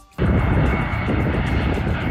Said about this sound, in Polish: Na lotnisku Chopin w Warszawie wylądowały samoloty m.in. ze Sri Lanki, Indii, Norwegii i Meksyku.